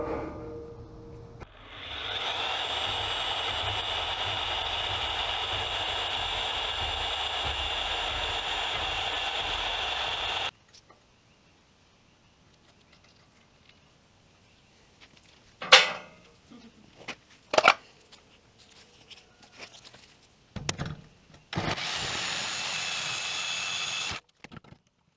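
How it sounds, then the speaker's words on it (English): A bandsaw cuts a steel profile for a trailer frame, a loud steady whine lasting several seconds, then stopping, followed by scattered metallic clanks and handling knocks and a second short burst of cutting. "that profile I need to cut now with the bandsaw"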